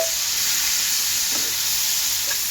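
Steady sizzle of small shrimp frying lightly in a pan, a broad hiss with a couple of faint stirring scrapes, close and continuous, no voices.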